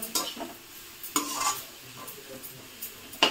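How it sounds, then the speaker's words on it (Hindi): Soya methi and radish leaves being sautéed in a pan: soft stirring scrapes and a low sizzle, with a few louder spoon strokes against the pan. Close and fairly quiet, with no talking. "चलिए इसको बहुत अच्छे से हम भून लेंगे, अच्छे से पका लेंगे, कच्चा भी ना रहे।"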